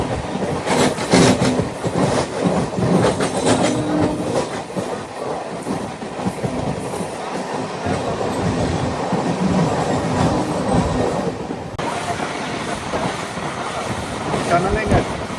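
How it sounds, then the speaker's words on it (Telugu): A Yesvantpur–Kacheguda Vande Bharat Express train passes close by, giving a loud, steady rushing rumble with wheel clatter throughout, shifting in tone partway through. "యశ్వంత్పూర్ కాచిగూడ వందే భారత్ ఎక్స్ప్రెస్."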